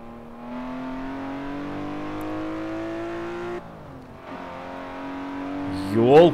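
A BMW M5 in the Forza Horizon racing game holds a steady, rising engine note under acceleration, briefly drops off, then climbs again and revs sharply near the end; loud and continuous.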